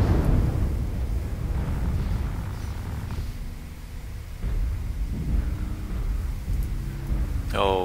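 Rumbling airstrike explosions in a video game, deep booming blasts rolling through a dull low roar, fairly distant and muffled, with a faint voice near the end.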